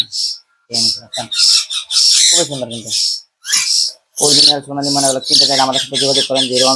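A large golden mynah chick gives loud, harsh, squawking calls in repeated close bursts separated by short gaps, with some calls sounding almost voice-like.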